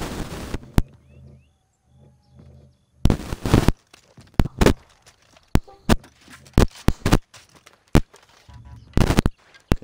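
Pistol shots in the video game Far Cry 4 ring out as sharp, loud cracks in uneven bursts, with pauses between them and a voice talking in the gaps.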